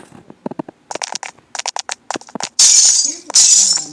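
Glass shattering in a video game: a string of short clinking impacts and crackles, then two loud bright crashes of breaking glass near the end.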